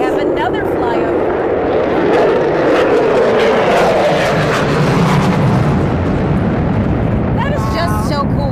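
Military aircraft flyover at a veterans parade in Virginia, a loud roaring jet sweep that swells and falls as it passes overhead, with crowd voices and talk mixed in.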